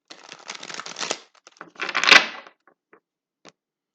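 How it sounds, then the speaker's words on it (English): A deck of cards gets a quick shuffle, two close bursts of riffling and flicking followed by a few faint taps as the cards settle. "So one more quick shuffle."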